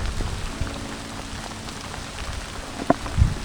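Rain falls on surfaces at Lake Geneva during a kayak trip, a steady close patter with scattered louder drops and a few low bumps, no voices.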